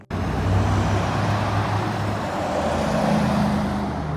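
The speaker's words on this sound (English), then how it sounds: "This is downtown Conway, Arkansas on a Friday night." Street traffic rolls through downtown Conway, Arkansas on a Friday night, with a steady close-up rumble of passing cars and trucks that fills the whole stretch without a break.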